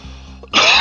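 A single sharp cough bursts out up close after a brief throat-clearing rumble, loud and alone.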